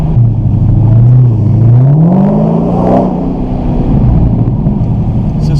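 A supercharged 2016 Dodge Challenger SRT Hellcat muscle car engine revs loud and close, its deep rumble climbing in pitch and easing back in one long, continuous sweep, with no voices.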